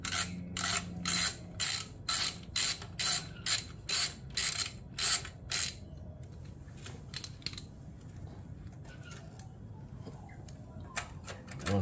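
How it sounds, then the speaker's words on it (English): A ratchet undoes exhaust bracket bolts on a 2022 Yamaha MT-10 motorcycle: about a dozen sharp, rhythmic clicking bursts close up, followed by quieter scattered metallic taps and handling noises. "to undo this bracket so the muffler can be taken out."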